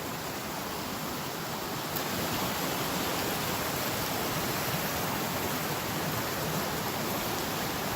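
Creek water rushing steadily in light rain at the edge of a stream, a loud, even broadband wash throughout with no voices.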